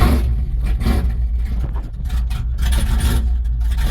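A 1997 two-door Chevrolet Tahoe with an LS swap engine cranks and fires up, its loud close rumble rising and falling unevenly under rough idle and gas blips, with metallic rattles over the top.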